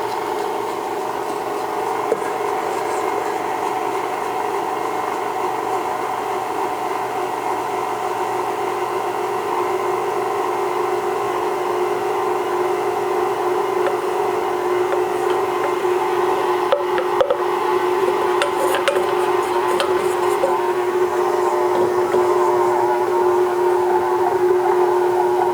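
An electric stand mixer whirs in a steady, loud drone while a flour and baking soda mixture is added slowly for chocolate chip marshmallow cookie dough. A few faint clinks come near the end.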